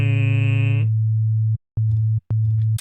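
A pure sine tone from the Serum synthesizer plays as a steady low hum, first with a brighter buzzy layer that drops away, then cut into short sustained notes with brief clicks and gaps between.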